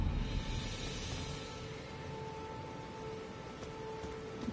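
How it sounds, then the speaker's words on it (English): Steady rain falling in the video game Elden Ring, a dense, even hiss that holds at a constant level throughout, with no voices. "Oh, it's raining now."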